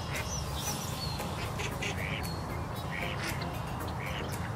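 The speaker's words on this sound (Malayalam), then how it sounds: "ഹായ് താറാവ് കൂട്ടങ്ങൾ, ഇതൊരു ബഹളവാ" A flock of ducks quacks in an evening park near a home in Canada, with repeated overlapping calls over a constant outdoor background at moderate distance.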